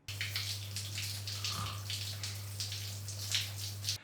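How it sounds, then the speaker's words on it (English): Hot water for a foot bath, a soft, quiet continuous splashing and trickling with a low steady hum underneath, heard alone. "just bathing your feet in hot water can help you relax and improve your sleep quality"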